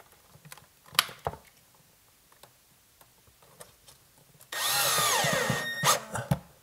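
A power drill drives a mounting screw for an under-cabinet light, a short steady whirring burst near the end after scattered light handling clicks and taps.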